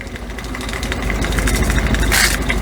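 A bolted-down hobby paint mixer shakes a paint bottle loaded with agitator bearings, giving a steady motor-like drone and rattling vibration that grows slightly louder, ending in a brief bright burst.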